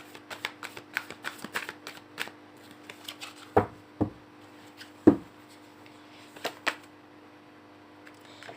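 Tarot cards being shuffled by hand, close and quiet, with a run of soft flicking riffles followed by a few sharper taps and slaps of the deck, no talking.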